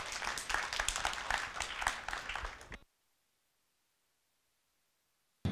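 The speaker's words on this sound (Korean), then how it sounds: "여러분 박수로 맞으시기 바랍니다." Audience applause welcomes a presenter at a Korean youth activity policy forum, dense clapping lasting under three seconds before cutting to silence, then a brief resumption at the very end.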